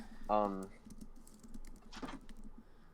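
Fast, light clatter of computer keys being typed, moderately close but quiet, following a brief burst of speech at the start and continuing under a low background hum.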